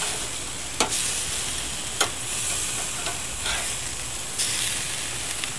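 Burgers sizzle on a Weber Go-Anywhere charcoal grill as they are flipped, a steady close frying hiss broken by four or five sharp scraping clicks of the spatula at irregular intervals, with no talking.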